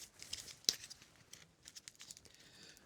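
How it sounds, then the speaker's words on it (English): Tape being pulled and torn while taping the intersection of a split ash hat frame, one sharp rip followed by soft crinkling and faint handling taps, quiet and close. "And tape this intersection as well."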